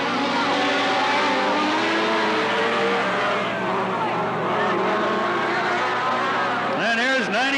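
Race cars roar around the Cottage Grove Speedway oval in 1991, a continuous loud engine drone with rising revs, while someone speaks over it.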